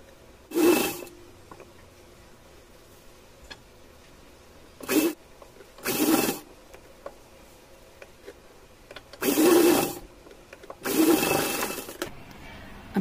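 A sewing machine stitches piping onto a small doll dress in short separate bursts, four or five runs of a second or so each with quiet pauses between, fairly close and with no talking.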